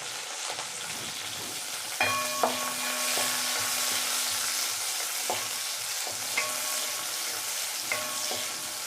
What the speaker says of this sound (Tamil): இப்போ நம்ம எடுத்து வச்சுருக்க பச்சை மிளகா அதையும் போட்டு வதக்கலாம்.